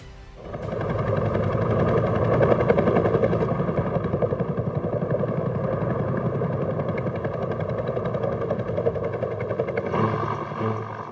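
A Bell UH-1 Iroquois Huey helicopter flies with a steady, loud rhythmic rotor thump and engine drone that holds for several seconds before easing off.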